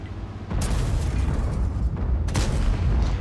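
A World of Tanks cannon shot striking the turret of an E100 heavy tank: a deep booming blast with rumbling low end, then a second sharp impact boom amid continuous engine and battle noise.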